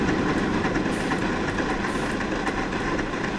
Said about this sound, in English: You can hear the weird beats of the exhaust as it starts to subdivide on itself as it goes faster and slower.